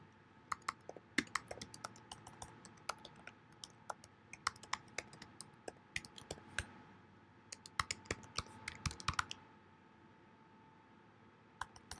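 Keystrokes on a computer keyboard as a password is typed, a fast, uneven run of sharp, close clicks in bursts, pausing briefly before a few final taps near the end.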